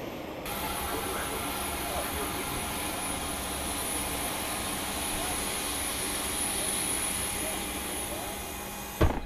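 Inside the cockpit of a 1976-built Douglas DC-9 jet of Astral Aviation cruising at 28,000 feet, a loud, constant broadband roar of engine and airflow fills the cabin throughout.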